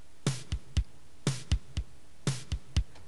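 Programmed drum pattern from PowerTracks 6 software with bass drum and snare, a steady repeating electronic groove of crisp, evenly spaced hits, clean and alone.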